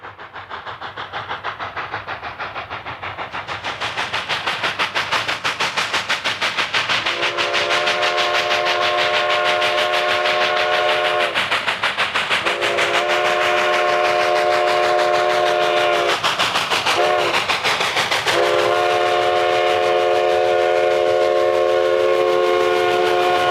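Steam locomotive No. 484 labours up the constant 4% Cumbres grade on a narrow-gauge mountain railroad, a loud continuous roar of exhaust and running gear with a sustained chime whistle sounding in several long blasts over it.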